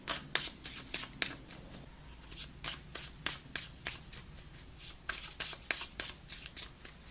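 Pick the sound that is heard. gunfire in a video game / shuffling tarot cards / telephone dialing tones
shuffling tarot cards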